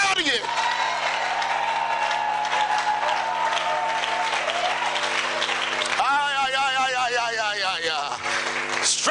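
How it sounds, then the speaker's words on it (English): A church congregation at a Sunday service claps and shouts loudly and continuously, with dense applause and cheering over sustained organ or keyboard chords and a strong voice calling out across it. "Come on, clap your hands and shout you."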